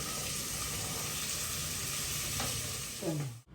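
Carrot, beans and tomato stir-fried in a pan for a quick breakfast dish, a dense continuous sizzle close up, with a brief scrape of the utensil and an abrupt cut near the end.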